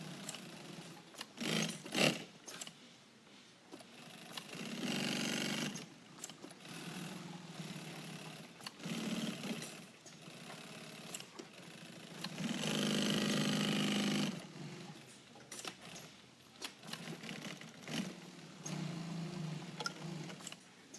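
Sewing machine stitching 1.5-inch nylon webbing around a folded strap, several bursts of steady mechanical whirring separated by short pauses, close and alone.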